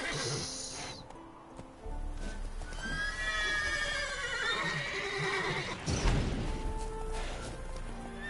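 Horses in The Witcher 3 neigh and whinny loudly, with clip-clopping hooves and game ambience underneath, followed by a sharp crash-like burst of hoofbeats.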